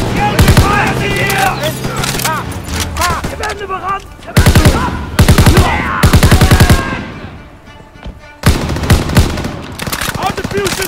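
Bursts of Call of Duty: WWII gunfire during a battle at Remagen, Germany, 1945, come in loud, rapid machine-gun volleys separated by short pauses, with shouting voices heard between the bursts.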